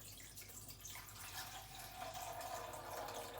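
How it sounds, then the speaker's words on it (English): Water from a tap pours into a glass coffee beaker for a Moccamaster drip brewer, a continuous splashing rush whose pitch rises gradually as the vessel fills, steady and close. "First, start by filling up the glass beaker with some crisp water."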